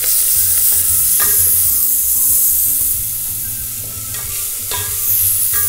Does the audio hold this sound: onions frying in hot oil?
yes